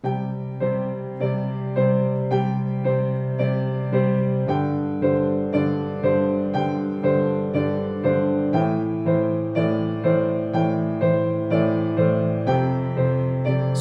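A piano plays sustained left-hand chords with right-hand notes struck together in a steady, rich rhythm, loud and close with no talking, the chords shifting every few seconds.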